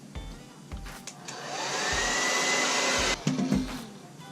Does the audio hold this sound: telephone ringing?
no